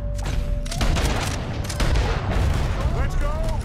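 Gunfire in the Red Dead Redemption 2 Guarma shootout, loud, dense bursts of shots and booming reports throughout, mixed with talk.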